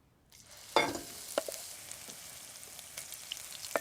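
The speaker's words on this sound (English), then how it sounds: "I'm just going to fry this until it softens." Turmeric-spiced ingredients softening in vegetable oil in a wok, with a quiet continuous sizzle and a few distinct spoon taps and scrapes, close and fairly soft, with no talking.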